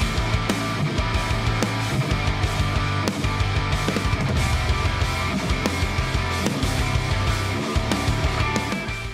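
An electric guitar runs through the MIKKO ANGR cabinet simulator plugin loaded with classic 1990s V30 impulse responses, playing a loud, dense, continuous passage with steady driving rhythm and no talking.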